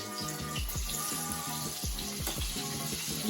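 Curry leaves frying as seasoning for a Rayalaseema-style spicy fish fry, a dense continuous sizzle and crackle, close and steady, with background music running underneath.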